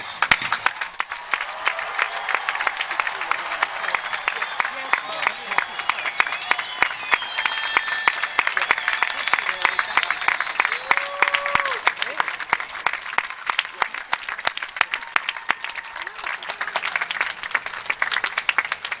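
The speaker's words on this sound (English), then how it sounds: "rise as a body so we can give you a thunderous round of applause" A large graduation ceremony audience rising to applaud at a university commencement, with long, dense, continuous clapping and scattered cheers and voices throughout.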